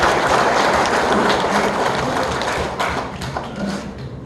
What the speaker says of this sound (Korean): 우리 윤상현 의원님께 큰 박수 부탁드리겠습니다